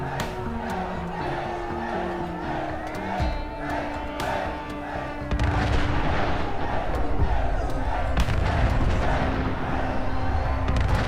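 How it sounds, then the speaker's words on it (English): A large explosion in the Fallout London mod for Fallout 4, a sudden heavy boom that turns into a sustained, rumbling, crackling roar over the game's background sound and music. "He's done for. It's gonna explode pretty soon."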